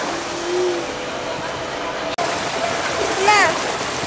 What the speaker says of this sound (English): The water from the mountain. Actually, it's melting snow.